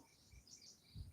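Faint, high insect chirping trills steadily in a quiet outdoor setting, with soft low rumbles underneath and no voices.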